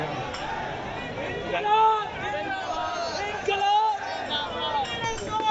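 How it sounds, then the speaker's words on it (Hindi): Crowd gathered at a Jantar Mantar protest, a steady babble of many overlapping voices and chatter at close to middle distance, with a few louder swells and no single voice standing out. "साथ साथ में भीड़ बढ़ती जा रही है कि बहुत ज़्यादा।"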